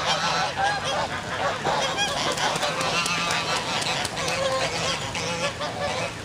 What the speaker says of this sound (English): mating ducks.